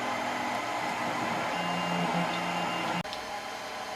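Tevo Tarantula 3D printer printing a calibration cube, a steady mechanical whir with faint tonal stepper whine, cutting briefly near the end before resuming.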